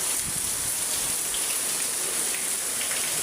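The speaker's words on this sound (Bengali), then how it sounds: "দেখেন গাইস কি পরিমাণ বৃষ্টি হচ্ছে" Heavy rain pours down in Tongi, a steady, loud, close hiss of drops drumming on surfaces without any break.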